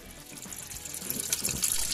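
Tap water runs steadily into a pot or sink, being readied for boiling instant curry chicken noodles, a continuous splashing flow that grows slightly louder toward the end with no talk.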